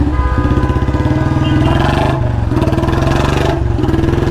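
A Royal Enfield Bullet Standard 350 motorcycle rides through traffic, its single-cylinder engine loud and close with a steady rapid thumping beat that swells slightly as the throttle changes.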